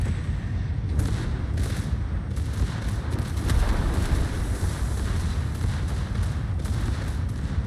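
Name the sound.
ship secondary guns firing in a naval video game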